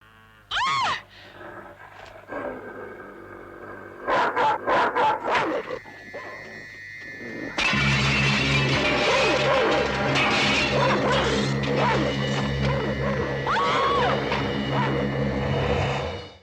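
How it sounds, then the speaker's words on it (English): Attack dog in a film barking and jumping onto a car hood, with sharp yips and rapid bursts of barking, then a loud sustained commotion of crashing and frantic barking close by. "Vincent Schiavelli has his attack dog, and it jumps up onto the hood of Sybil Shepherd's car"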